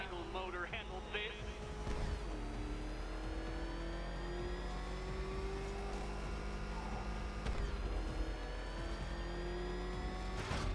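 A car engine in the video game Batman Arkham Knight hums and revs continuously and loud, its pitch climbing steadily with whirring tones on top.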